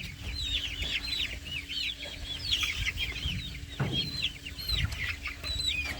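Backyard chickens cluck and murmur continuously at moderate distance, with repeated short calls and chirps over a low rumble of background noise, no voices.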